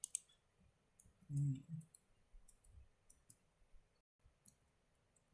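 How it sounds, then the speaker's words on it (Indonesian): Keyboard keys pressed for a Ctrl+S save shortcut, heard as a few quiet, sparse clicks spread across the stretch with a short low thump in the middle. "misalnya ya Ctrl S"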